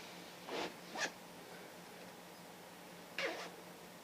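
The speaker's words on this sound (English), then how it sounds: "Both have a YKK zipper." Three quick YKK zipper pulls on a combat uniform sound close up, two in rapid succession and one after a pause, over quiet room hiss.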